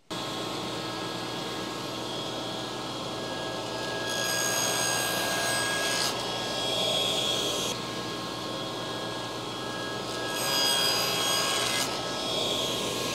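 Table saw blade cutting through wood while a workshop piece for a baseball ring display is trimmed, a steady whine swelling into several louder cutting passes with a bright rasping edge.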